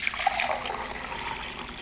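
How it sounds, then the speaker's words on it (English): Water pours steadily into a vase, a continuous close trickling and splashing stream with no talking over it. "And now I'm going to add my water"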